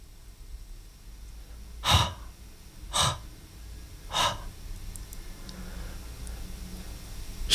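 A voice imitates heavy, laboured panting with three loud, spaced breath bursts, each a short harsh exhale, followed by quieter breathing.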